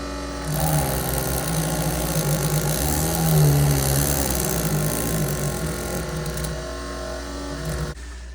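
A spindle polishes a baroque bead with 40 grit, producing a loud, continuous motorized grinding whine with a rough rasping texture that holds steady for several seconds before cutting off near the end.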